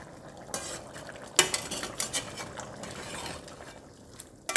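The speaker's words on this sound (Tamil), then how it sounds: "நடுவில் நாம் திறந்து கிளறி விடணுங்க" A spoon stirs chicken in an open pot, giving irregular scraping and clinking bursts against the metal, moderately close and fairly quiet.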